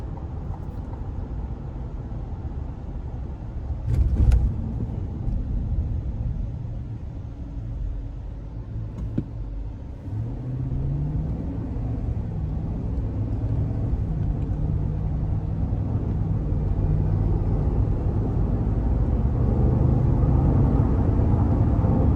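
Inside a 2021 Cadillac Escalade with its 10-speed automatic, a low road and engine rumble builds steadily as the SUV drives and accelerates, with a faint rising engine tone and a couple of brief knocks.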